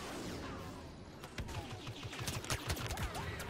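Vehicle turret in Star Wars Battlefront's Walker Assault on Hoth firing rapid bursts of blaster shots, busy and fairly loud over layered battle noise.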